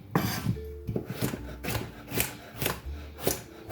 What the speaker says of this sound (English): So that is a grater my mom would use